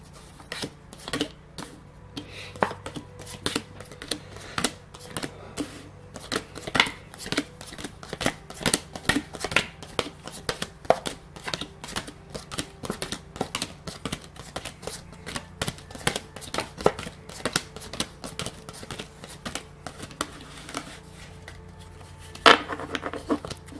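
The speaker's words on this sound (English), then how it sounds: "we're going to go ahead and get started with shuffling the cards" A deck of tarot cards is shuffled by hand close up: a steady stream of soft riffling, rubbing and snapping card sounds, repeated over and over with no talking.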